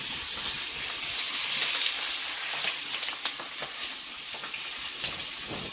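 Stuffed capsicum is stir-fried in oil in a pan for a spiced capsicum dish, producing a close, steady sizzle punctuated by short stirring scrapes, no speech.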